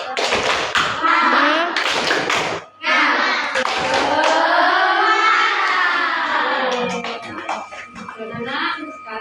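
A class of children performs a rhythmic spirit clap in a classroom, loud close claps in patterned bursts mixed with chanting voices.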